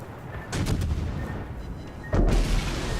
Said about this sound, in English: And I take a big hit. I take 2 torpedoes.